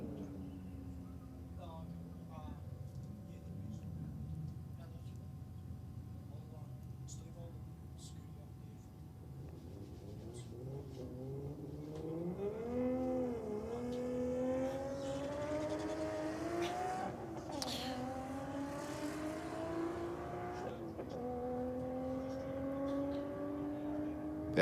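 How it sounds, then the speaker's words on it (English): A pair of Toyota race cars sit at a drag strip start line; engines idle low, then rise in pitch as they rev, heard from a moderate distance with a voice present. "a pair of Toyotas about to hit the start line now"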